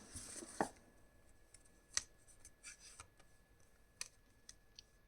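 Tarot cards are shuffled and handled quietly, with soft flicking riffles and a few sharp snaps of cards against each other at irregular moments.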